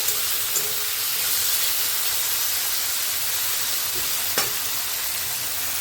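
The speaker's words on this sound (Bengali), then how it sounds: "একটু আলু আর লঙ্কা দিয়ে একটুখানি ভাজা ভাজা মতন করবো" Potatoes and green chillies fry in a pan with a steady, close sizzle and hiss, broken by a couple of brief clinks of a utensil.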